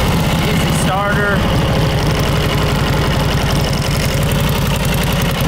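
A vintage motorcycle engine, started with an easy starter and running on a 6-volt system, settles into a steady, loud close idle with a rapid even pulse throughout, after a brief whirr at the start.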